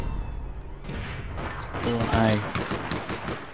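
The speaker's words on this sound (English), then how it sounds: "I'm getting shot in the back." Gunfire in the online shooter APB Reloaded rattles in bursts, with sharp rapid shots growing louder midway, while a player's voice talks over the action.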